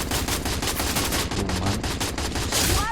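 Rapid automatic gunfire from a Free Fire MAX match played on an Android emulator, a dense, loud stream of shots across three seconds with a faint chime near the end and no talk.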